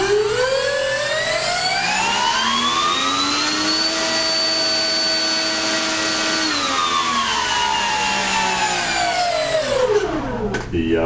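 Electric motor spinning a tri-blade propeller on a Parkzone Messerschmitt RC plane, a loud close whine that climbs in pitch, holds steady, then winds back down near the end.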